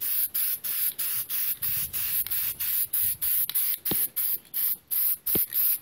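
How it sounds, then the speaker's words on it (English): Short rhythmic bursts of aerosol spray, about a dozen hissing pulses, as matte finish clear coat goes onto a BB-8 droid body being weathered; close and loud with no talk. "just hit it with your Crayon matte finish or clear coat of your choice."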